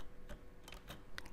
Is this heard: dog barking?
no